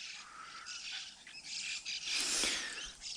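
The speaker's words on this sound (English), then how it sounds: "Some kookaburras." Kookaburras call in the morning in the Queensland bush, a chorus of raucous, cackling, chattering cries at a moderate distance, steady and continuous with no talking.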